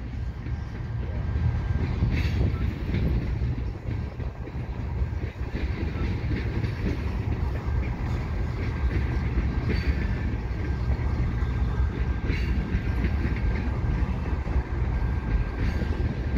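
A CN freight train with five engines rumbles steadily past up close near the Lachine Canal Bridge, a continuous heavy roar of rolling wagons with faint rhythmic wheel clatter throughout.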